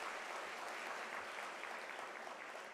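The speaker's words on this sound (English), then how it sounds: "Can we give them an applaud for that?" Sustained applause from a crowd at a university autumn graduation ceremony, a steady dense patter of many hands clapping without a break.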